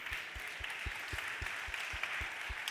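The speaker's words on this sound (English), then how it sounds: "Let's give a big round of applause to Martin." An audience at the Hinterland of Things 2020 business conference applauds a speaker, faint, distant clapping heard as a soft steady hiss, with low regular thumps pulsing beneath it.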